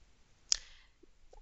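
A single short, crisp mouse click on a computer sync button, close and faint, followed by a couple of tiny soft ticks in a quiet room.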